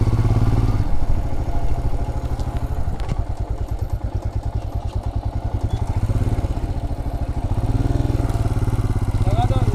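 A motorcycle engine chugs up close as the bike is ridden slowly into a roadside parking spot at Bhangarh Fort in Rajasthan, a loud rhythmic thumping idle with a few clattering knocks, steady throughout.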